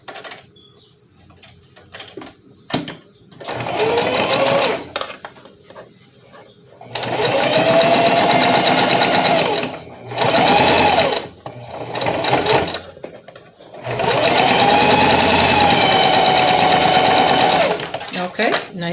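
Sewing machine stitching fabric for a face mask, running in several bursts of steady whirring with pauses between, close by, while a person talks over and between the runs.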